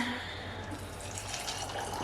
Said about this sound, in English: And then some hot water to let it set